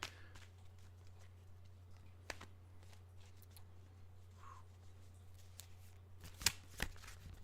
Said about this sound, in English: I'll kind of shuffle until it feels right, and then I'll just kind of pull.